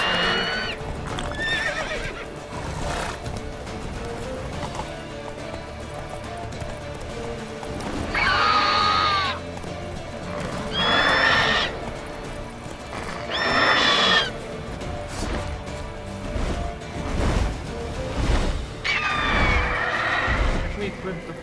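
Roach the horse gallops in Witcher 3, a steady clip-clop of hooves throughout, broken by several loud neighs and whinnies, with someone talking over it.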